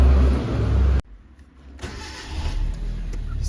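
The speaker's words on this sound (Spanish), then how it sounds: "vamos a prender el carro" Car engine cranking loudly then catching and settling into a quieter idle with a faint steady whine, no speech.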